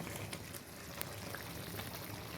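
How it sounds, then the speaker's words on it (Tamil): Mutton lung gravy boiling in a pot, Tirunelveli style: a dense, continuous bubbling and simmering hiss with small pops, steady and close, with no talking. "இந்த குழம்பு எப்படி கொதிக்குது பாருங்களேன்."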